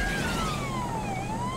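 A wailing emergency siren from GTA 5, its pitch sweeping slowly down and back up, loud and steady over a low rumble of engine and road noise with no talking.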